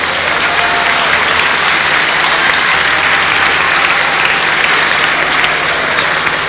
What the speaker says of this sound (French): Applaudissez-la quand même.